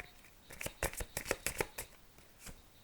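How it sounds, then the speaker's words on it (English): Cards from a chakra oracle deck being shuffled and drawn, a quick series of close, crisp riffling flicks and snaps. "Now I'm going to pull 2 more cards from my chakra."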